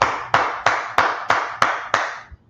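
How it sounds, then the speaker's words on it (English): A congregation at a Tuesday brotherhood religious class in Yonkers, New York claps in unison: seven sharp, evenly spaced claps in a brisk rhythm, each ringing briefly in a reverberant room. "Let's clap it up for the Lord."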